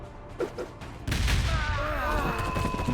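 A grenade explodes in the Warhammer 40,000: Gladius strategy game, a sudden loud boom after a soft lead-in, followed by a sustained rumbling roar with sharp crackling tones.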